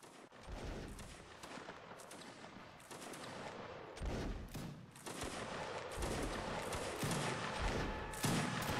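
Dense musket volleys crackle and rumble from line infantry in a Napoleonic Wars battle game, overlapping shots rolling on continuously with several louder bursts, no clear pauses.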